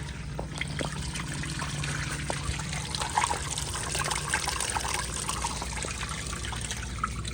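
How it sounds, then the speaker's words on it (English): A 1954 Standard Chinal urinal with its strainer removed is flushed, water trickling and draining steadily and softly out the bottom for several seconds, with no talking. "I'll go ahead and take the strainer out and flush it again"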